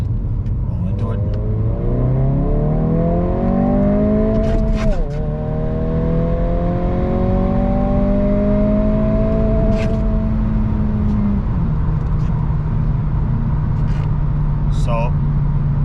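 A 2022 Honda Civic Si on a 21 PSI Ktuner tune pulls hard in second gear from a roll at about 25, its engine note climbing steadily and loud and close, with a brief dip partway through before it rises again.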